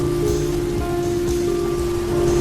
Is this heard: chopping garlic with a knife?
no